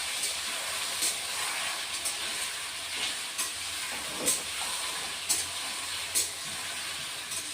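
Potatoes and taro stolons fry with a steady sizzle in oil, with scattered clinks of a utensil stirring in a pan, no voices.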